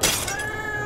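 A cartoonish cat meow from the video game Jazzpunk, a short bright tonal cry with a sustained whine trailing off over steady game background noise.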